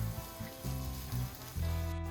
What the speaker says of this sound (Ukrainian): Тепер обсмажую спочатку цибулю до золотистого кольору, а потім і морку до м'якості.